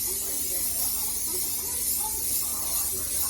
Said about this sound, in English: I'm gonna spray this butter spray in here.